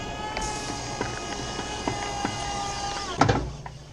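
A DIY electric fishing reel conversion spins steadily with a whirring motor hum, punctuated by a few light clicks and a sharper clatter near the end.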